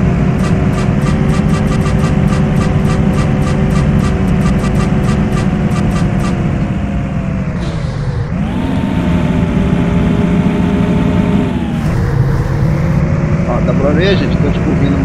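A truck engine in Euro Truck Simulator drones and revs as it climbs a long winding mountain road, steady loud hum with gear-shift dips and pitch rises, under someone speaking over it.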